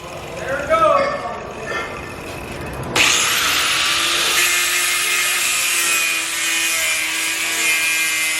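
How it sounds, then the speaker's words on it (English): Strut cup being cut off a race car with a power saw, which starts abruptly and then whines steadily and loudly at close range through to the end, after some earlier scraping and handling noise. "what Kyle is cutting off is the strut cup"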